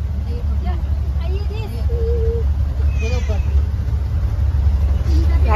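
Heavy road traffic rumbles steadily from cars, buses and trucks in Versova Koliwada, a loud continuous engine drone with people talking over it.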